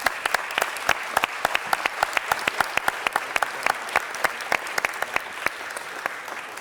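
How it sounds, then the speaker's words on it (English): A city council audience applauds the new Los Angeles Dodgers owners, Frank and Jamie McCord, with steady clapping and sharp individual claps standing out near the listener. "Let's give them a round of applause, folks."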